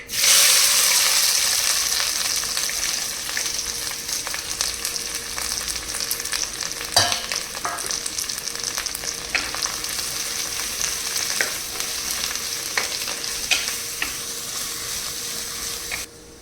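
Chopped onion, ginger and green chilli fry in a pan for a tuna head curry, a loud sizzle at first that settles into a steady crackle, with scattered stirring clicks and scrapes and no talking.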